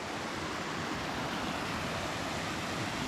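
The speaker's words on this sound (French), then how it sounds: "On a une petite cascade là." A small waterfall along a hiking trail pours with clear water, a close, loud and steady rushing hiss with no pauses and no voices.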